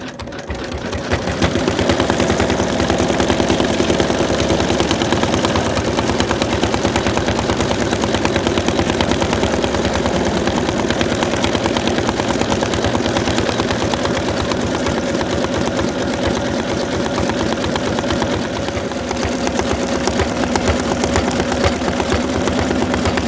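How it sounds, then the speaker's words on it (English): Embroidery machine sewing a satin stitch outline on fabric for an in-the-hoop Santa doll belt, a loud, rapid, steady mechanical chatter running continuously at close range with no talking. "Now it's going to do the satin stitch on the belt."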